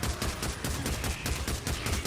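Short, controlled bursts of gunfire in Days Gone. Loud rapid shots come in a steady pulsing rhythm of repeated bursts with little pause between them, and there is no talking.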